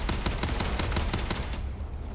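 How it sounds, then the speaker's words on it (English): A gun in the game Starfield fires in rapid automatic bursts, a loud continuous rattle of closely spaced shots that cuts off abruptly near the end. "That gun is shredding."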